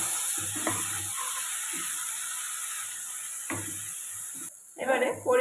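A splash of water poured into a pan of frying spices for a fresh river fish curry, a bubbling sizzle that hisses louder at the end, with a voice talking over the background frying.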